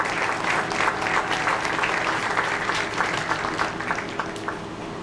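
A crowd at a high school athletic awards ceremony applauds the 2020 boys varsity golf team, steady sustained clapping that fills the whole stretch at a fairly even level, slightly easing toward the end.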